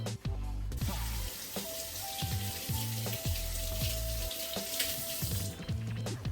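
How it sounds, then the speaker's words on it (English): Gloved hands rinsed under a running kitchen tap, a faint steady splash of water broken by repeated thuds and clatters, with no talking. "Let me rinse my gloves off."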